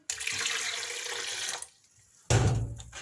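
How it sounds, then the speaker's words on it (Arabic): A cup of water pours into a kitchen blender jar, a steady splashing gush for about a second and a half, then a pause and a short heavier splash near the end. "انا هنا اجيب الخلاط بتاعي، هنزل فيه بكوبايه ميه"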